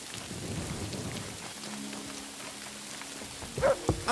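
Steady rain falls in Kingdom Come: Deliverance II, a constant close patter with a low rumble of thunder, ending with a few sharp knocks and a brief clatter.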